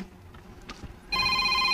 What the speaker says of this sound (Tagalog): Mingaw ang akong cellphone.